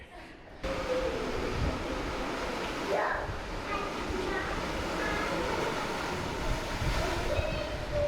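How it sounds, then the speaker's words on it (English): Ocean waves breaking against rocks along the San Francisco coast, a steady loud surf roar with wind buffeting the microphone throughout. "Waves and rocks."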